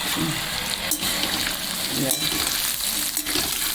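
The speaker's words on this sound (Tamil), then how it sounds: "வெள்ளைப்பூடை போட்டு ஒரு ரெண்டு நிமிஷம் கிண்டிக்குவோம்" Garlic sizzles steadily in a hot pan, a dense crackling hiss with occasional scraping sounds of stirring.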